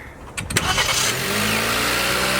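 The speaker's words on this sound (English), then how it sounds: "All right, let's go ahead and start the car." A 2013 Kia Rio with a newly installed starter cranks for a moment, then catches and settles into a steady, close idle.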